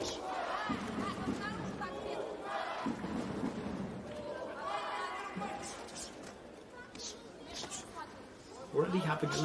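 Boxing arena crowd in Ufa, Russia, at a professional bout cheering and chattering for the home boxer, a loose, swelling mass of voices with a commentator talking over it.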